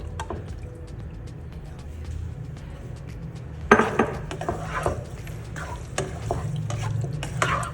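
Small cubes of goat liver drop into a pan of browned onions, and the quiet background suddenly turns into a loud, crackling sizzle with scraping stir strokes.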